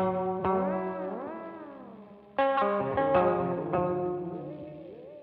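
A NUX Trident guitar multi-effects unit runs its pitch effect, turning plucked guitar notes into sliding, gliding harmonized tones that bend up and down, with two clear strummed attacks ringing and fading alone.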